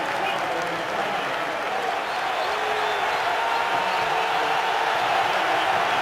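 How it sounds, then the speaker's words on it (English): A football stadium crowd at a Big Ten college game, Wisconsin versus Iowa, roars in a steady, loud wash of cheering and clapping across the whole stretch, with an announcer's voice faintly mixed in. "This crowd is getting into the game."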